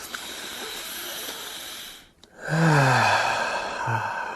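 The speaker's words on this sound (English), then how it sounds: "Let's all take a nice deep breath." A person takes a slow, deep breath close to the mic, a long airy inhale, a brief pause, then a heavy sighing exhale, alone with no talk.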